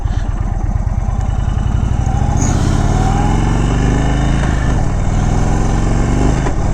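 Indian Chief motorcycle engine running close and loud, a steady throbbing rumble with pitch shifts and dips as gears change, no talk over it.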